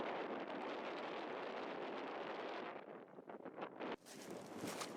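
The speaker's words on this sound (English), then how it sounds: "It's really windy, probably can't really hear me." Strong wind buffets the microphone on a road trip through the Cascade volcanoes toward hot springs, a loud continuous roar that briefly eases before gusting back hard.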